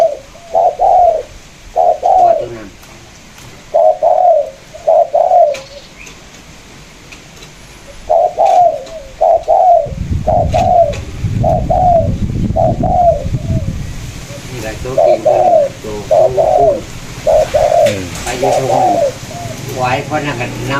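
Repeated dove coos in short rhythmic phrases, fairly close and clear, with pauses between bursts; a low rumble of background noise joins partway through.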